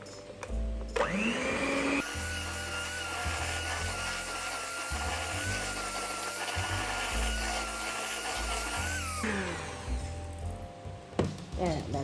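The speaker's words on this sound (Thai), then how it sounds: "จากนั้นเราก็ตีส่วนผสมให้เข้ากันดีเลยค่ะ" An electric mixer whirs steadily as it beats pandan cookie dough tinted with a drop or two of green food colouring, a loud continuous motor drone that starts abruptly and cuts off near the end.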